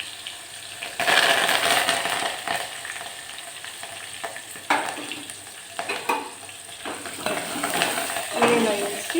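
Sliced onion and curry leaves fry in hot oil for a drumstick curry (munakaya charu), giving a steady close sizzle with bursts of stirring and spatula scrapes throughout.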